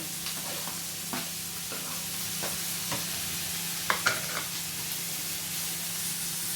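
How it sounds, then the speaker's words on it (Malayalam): Crushed garlic and ginger fry in a pan for squid masala, keeping up a constant sizzling hiss while a spoon scrapes and taps against the pan in scattered strokes, close by with no voices. "എല്ലാം കൂടി ഒന്ന് കുറച്ചൊരു ലൈറ്റ് ബ്രൗൺ ആവുന്ന വരെ നമുക്കിങ്ങനെ ചെറുതായിട്ട് ഇളക്കിക്കൊണ്ടിരിക്കുക"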